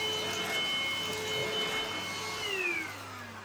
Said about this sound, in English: now that I've used it, I can say for a budget cordless vacuum, that's actually all right